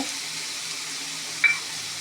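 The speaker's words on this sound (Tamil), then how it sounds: "பச்சை மிளகா, தக்காளி போட்டு வதங்கிடுச்சு" Green chillies and tomatoes sauté with ginger and garlic in a pan for tawa pulao, giving a soft, steady frying hiss with one brief clink partway through.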